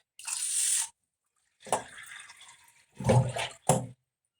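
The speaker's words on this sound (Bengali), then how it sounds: "ছ কাপ জল দেবো" Cups of water poured onto rice in a pot in three separate splashing bursts with short gaps, close and fairly loud, with no talking.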